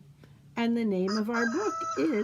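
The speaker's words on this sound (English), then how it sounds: "oh, I hear a rooster crowing." A rooster crows loudly and close by, its drawn-out call overlapping a person speaking.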